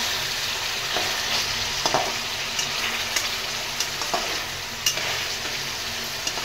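Rohu fish curry (rui macher kosha) sizzling and frying in a pan while a spoon stirs it, a steady close hiss broken by several short scraping strokes, with no talking.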